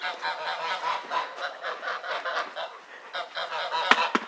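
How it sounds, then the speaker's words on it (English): Several farm geese honk repeatedly in overlapping calls, fairly close, among backyard fowl in a farm setting with no talk. "Goose, goose, goose."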